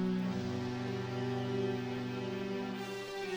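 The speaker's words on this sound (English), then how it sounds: "is the Spitfire Audio pads." A sustained Spitfire Audio synthesizer pad holds a smooth, full chord, steady and unbroken, then thins slightly near the end.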